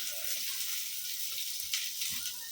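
Chopped onions dropped into hot oil already holding toasted garam masala, giving a steady, close frying sizzle with brief crackling bursts, no voices.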